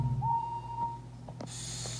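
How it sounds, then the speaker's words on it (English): Steam locomotive whistle: one thin, high-pitched tone holds for about a second, moderately loud, followed by a hiss of steam over low background rumble. "Henry blew his whistle"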